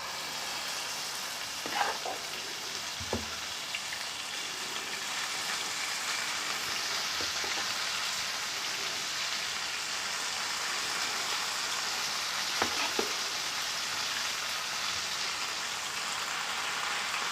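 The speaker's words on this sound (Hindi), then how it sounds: "अब हम इसमें साग ऐड करेंगे जिसे हमने घोट के रखा हुआ था।" Mashed saag stirred into a hot pan of garlic, ginger and cumin frying in oil, a steady soft sizzle throughout with a few louder spoon scrapes and clinks.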